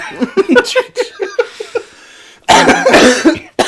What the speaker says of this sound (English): See, coughing.